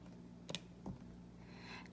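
Two light plastic key taps, close and quiet, followed by faint rustling.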